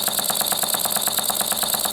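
Small homemade engine with a heavy flywheel and bar-stock parts running steadily, a fast even chuffing beat repeating many times a second, close and fairly loud with nothing else over it.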